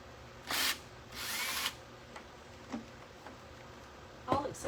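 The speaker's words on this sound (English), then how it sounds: "My drill bit is magnetized, so it hangs onto the screws pretty good." Power drill with a magnetized bit backing a screw out of a door on a clock project in a studio, two short whirring bursts followed by faint clicks and light handling knocks.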